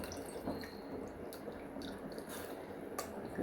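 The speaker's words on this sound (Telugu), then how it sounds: "నేను చింతపండు పులుసు పోసేస్తున్నాను" Tamarind juice pours into a cooking pot while making pepper rasam, a faint, quiet trickle and dripping of liquid with small splashes, heard alone.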